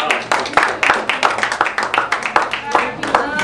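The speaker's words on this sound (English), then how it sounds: "Okay, round of applause." A classroom audience claps after a student presentation, a dense burst of loud, steady hand claps lasting a few seconds, with some voices mixed in.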